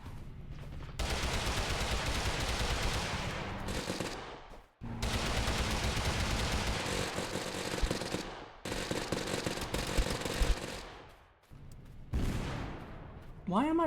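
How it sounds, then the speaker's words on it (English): Video game gunfire aimed at vehicle tires in Totally Accurate Battlegrounds, loud rapid bursts of automatic shooting in long sustained volleys with brief gaps between them. "Let's just shoot out the tires."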